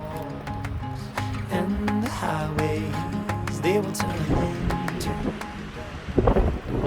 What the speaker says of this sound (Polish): Właściwie to się tylko męczymy w takim wietrze.